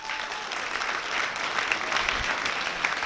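A comedy club audience applauds in a stand-up comedy show, sustained dense clapping at an even level throughout, with no talk over it.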